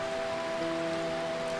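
Rain falling in Burmecia, a perpetually rainy kingdom in Final Fantasy IX. A brief, steady hiss of rainfall sits under sustained musical tones.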